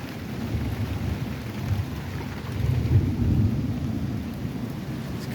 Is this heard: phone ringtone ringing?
no